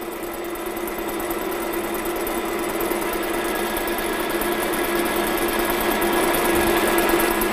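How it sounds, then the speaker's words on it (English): A metal lathe machines steadily across a workpiece toward its centre, giving a continuous even mechanical hum and whir with no break or talk throughout. "I'm going to keep on machining till I'm just past center."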